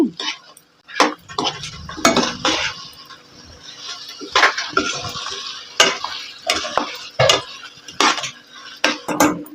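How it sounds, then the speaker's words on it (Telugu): Ginger paste frying in a pan for mutton curry, with repeated metal spoon clanks and scrapes against the pan in an uneven rhythm over a soft sizzle, close and fairly loud. "మొత్తం పచ్చివాసన పోయేంత వరకు అల్లం పేస్ట్ వేయించుకొని"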